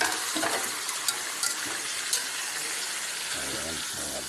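Marinated chicken hits hot oil with sautéed garlic, ginger and onion, making a loud, steady sizzle with faint utensil clicks and a voice briefly speaking near the end.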